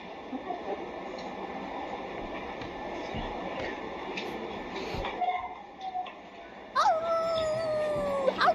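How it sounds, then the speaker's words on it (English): A dog howls in long, wavering cries, rising and falling, somewhat distant at first and then louder and clearer near the end. "A dog is heard crying somewhere in this clinic"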